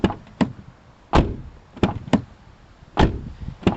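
Fiat 500 car door being opened and shut during a door handle repair, several sharp thuds and latch clunks spaced irregularly, close by with no talking.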